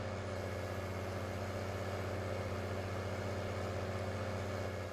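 A tractor engine in Farming Simulator 19 idles with a steady low drone and constant hum, pulling a heavy grain cart, even and unchanging throughout with no talking.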